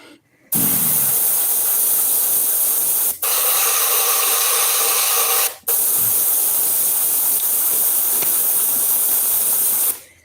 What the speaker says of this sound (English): One thing nice about that kind of airbrush, you can control it with your finger